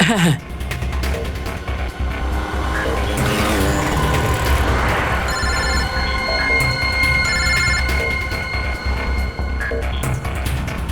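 A phone rings in a street lane in a TV crime drama with a repeating electronic tone, mixed into steady traffic and engine rumble while voices talk nearby.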